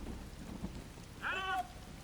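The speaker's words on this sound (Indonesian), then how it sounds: "Sontak ketika hujan besar mulai turun, Keller, Franklin, dan Ralph langsung mencar" Steady heavy rain hisses throughout a film scene, with a low rumble of thunder underneath and a brief tonal cry rising near the end.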